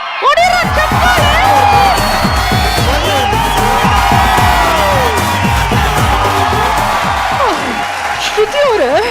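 A large studio audience at a comedy show grand finale cheers, whoops and shouts loudly and continuously, with clapping mixed into a dense, sustained crowd roar.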